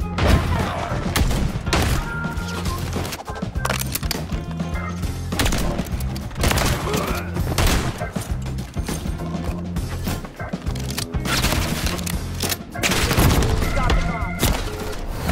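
Sniper rifle and shotgun fire in an online shooter game crackles almost nonstop, with dense overlapping shots and metallic clatter. Voices can be heard faintly in the mix.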